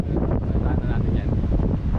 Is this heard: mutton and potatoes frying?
no